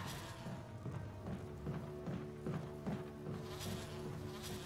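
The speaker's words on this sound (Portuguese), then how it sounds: "Ai, abelhas, saiam, saiam!" Bees buzz in the video game Resident Evil Remaster, a steady insect drone with soft thumps and bursts layered on top, holding at a constant level throughout.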